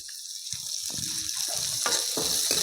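Finely chopped green chillies and onions sizzle in a pan over low gas, a constant bright frying hiss with a few soft scrapes and stirring clatters breaking through.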